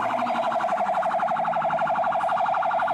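A toy fire truck's electronic siren wails in a fast, even warble, loud and close, repeating without pause and with no voices over it.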